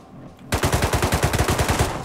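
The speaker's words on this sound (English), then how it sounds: "No, it's a shotgun trap." A shotgun trap firing in the survival video game Rust, heard as a loud, close, rapid string of repeated blasts that starts suddenly and keeps going to the end.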